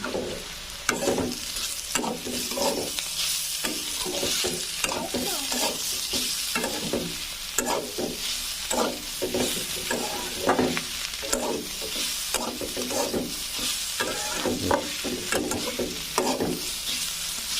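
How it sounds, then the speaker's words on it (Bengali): Banana stem masala fry being stirred and mixed in a pan after fried whole spices are added: a continuous loud sizzle with rapid, repeated scraping and tapping of a spatula against the pan throughout. "এখানে আমি কিছু গোটা মশলা ভেজে রেখেছিলাম, সেগুলো ভালোভাবে উপর থেকে দিয়ে ভালোভাবে মিশিয়ে দিব।"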